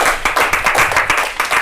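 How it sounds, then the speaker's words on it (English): Brisk, close applause from a comedy night audience, dense overlapping hand claps filling a short burst with no talking. "Round of applause for Emma Hillier."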